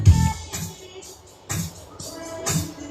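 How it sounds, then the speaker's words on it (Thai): An instrumental pop backing track with vocals removed plays through a Sherman APS-166 12-inch trolley speaker in karaoke mode, with steady drum hits and synth chords at a moderate level. "ตอนนี้เสียงนักร้องหายไปแล้วนะครับ เข้าโหมดคาราโอเกะ"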